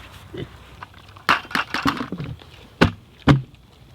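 A pig on a family homestead grunts a few times in short, loud bursts spaced across a few seconds, heard close up with no talking.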